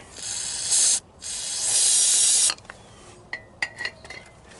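Brake cleaner sprayed into an engine cylinder of a Detroit Series 60 diesel during an in-frame rebuild, two loud close hissing blasts with a brief break, then light metallic clinks and taps.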